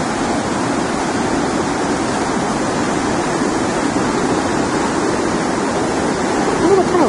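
Waves roll onto a black-sand beach along the northern California coast near Crescent City, a loud, continuous, close rushing roar of surf with no pauses.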